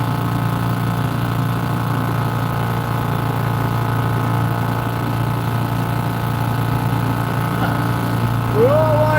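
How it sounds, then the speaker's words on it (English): A 1970s Seagull 40 Plus clutch-model outboard motor runs at a steady idle, a continuous low, buzzing putter that holds evenly throughout with only faint variation near the end. "Fart box is a 40 plus clutch model seagull in outboard."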